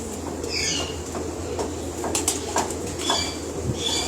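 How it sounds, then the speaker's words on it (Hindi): Pigeons at a Lala Musa pigeon keeper's loft give soft coos and brief wing flaps, close and fairly quiet, with no talking. "बहुत ही बड़ा कबूतर है"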